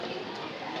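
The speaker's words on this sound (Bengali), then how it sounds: "এটা হ্যামার স্টাইলের কবুতর" A single male hammer-style pigeon of a light silver type gives a brief soft coo over a steady broadband background hiss, close by and low in level.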